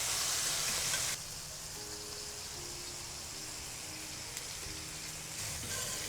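Beef searing for stroganoff in a pan, a steady faint sizzle that is hissier for the first second before settling into a softer frying hiss with a few light clinks.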